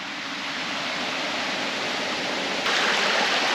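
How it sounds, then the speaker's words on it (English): Steady broadband rush of a waterfall on the Fiery Gizzard Trail, a constant hiss of falling water that grows a little louder near the end, with no voices. "Waterfall here."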